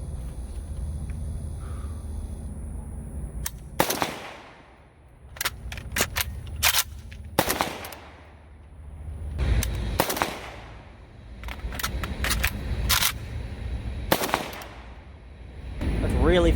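An AK rifle fitted with an RS Regulate GKR-7MS railed handguard fires a handful of sharp, loud single shots spaced several seconds apart, with magazine-change clatter and faint outdoor background between them.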